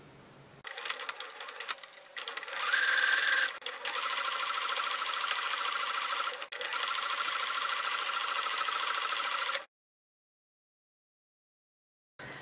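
Sewing machine stitching lace onto a patchwork half-moon fabric pouch with yellow thread: a steady, loud mechanical whirr running for several seconds, briefly pausing and resuming, then stopping into silence.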